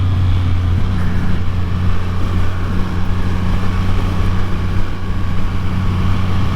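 A Triumph Rocket 3 motorcycle engine runs loud and close with a deep, steady throbbing rumble that holds constant throughout without pauses.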